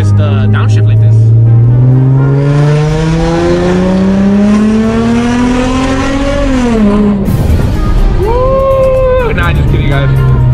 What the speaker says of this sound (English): just downshift like this